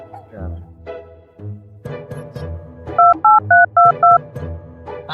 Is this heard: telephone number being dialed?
yes